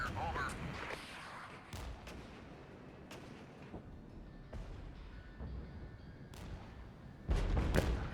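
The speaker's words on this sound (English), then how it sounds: "Ordnance on the way" Artillery fire in the war game Regiments booms at intervals, the heaviest blast landing near the end, while voices talk beneath.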